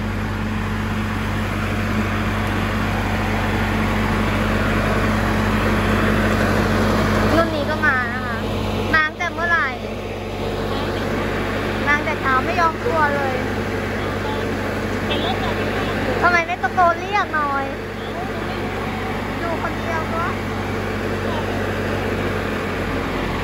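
A rice combine harvester's engine drones steadily and loudly in a field, a constant low rumble that runs throughout while people talk nearby.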